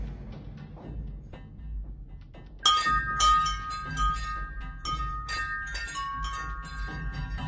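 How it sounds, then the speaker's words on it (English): Metallic chimes ring out suddenly after a low rumbling stretch, with several bright tinkling strikes and sustained shimmering tones that linger and repeat. "I can see how they could have opened the door and hit the chimes off camera"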